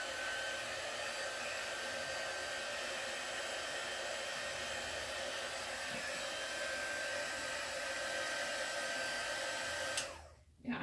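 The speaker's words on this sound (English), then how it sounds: "I could shoot it with the heat gun just real quick." A heat gun blows hot air to dry a craft project, a loud steady rush that holds for about ten seconds before cutting off abruptly.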